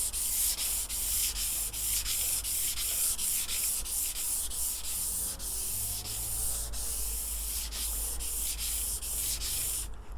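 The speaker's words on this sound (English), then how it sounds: "the wet and dry over the surface to take the uniformed colour away to a certain degree" Wet and dry sandpaper rubbed steadily across a painted model railway surface, a continuous close scratchy sanding hiss with even strokes throughout, no talk.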